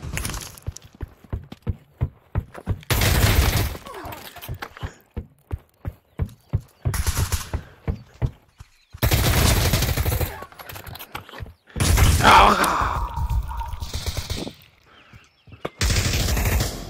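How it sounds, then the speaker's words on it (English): Video game gunfire cracks out in rapid bursts of shots, separated by short pauses and then by longer, louder volleys that dominate the mix, with faint voices underneath. "Where am I being shot at from?"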